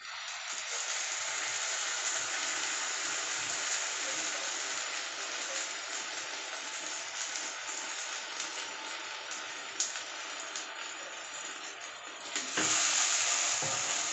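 Pointed gourd paste sizzling in hot oil in a pan, a steady close hiss that holds throughout and swells briefly louder near the end, with no talking.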